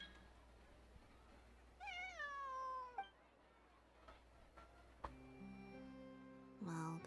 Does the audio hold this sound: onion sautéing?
no